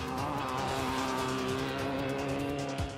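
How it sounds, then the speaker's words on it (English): Off-road race cars launch one after another at the start of a 7-hour desert marathon race, engines roaring loud and steady throughout, with a brief tire skid near the end. "The cars take off one at a time."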